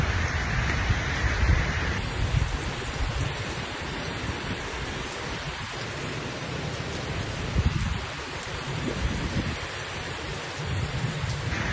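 Steady rain falls over a forest park, a continuous close wash of drops hissing on leaves and ground for the whole stretch, with no voices.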